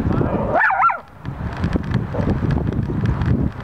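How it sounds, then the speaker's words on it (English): A dog barks and lets out a rising yelp outdoors, nearly buried under heavy, constant wind rumble on the microphone. "Lots of barking."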